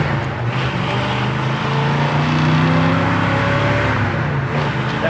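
A 1963 Ford Galaxie 500 pulls away from a standing start, its engine note climbing in a steady drone as the car accelerates, heard from inside the cabin with a constant road rumble beneath.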